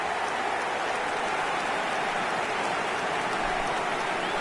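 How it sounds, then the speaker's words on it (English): Stadium crowd in eFootball 2025 applauding a goal, a dense, steady roar of clapping and cheering that fills the whole stretch at even loudness, with no voices standing out. "Even some of the opposing fans are clapping that."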